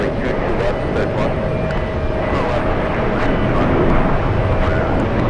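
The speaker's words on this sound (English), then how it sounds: "737 heading to Cancun, Mexico." A Boeing 737 jet airliner rolling at JFK airport, a continuous loud roar of jet engine noise with a steady whine, while a voice talks over it.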